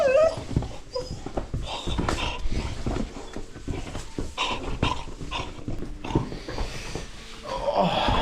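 Rossi the dog whimpers and snuffles close by in Pirbright over steady outdoor background noise, with thin whining cries and snorting breaths spread across several seconds and a rising whine near the end.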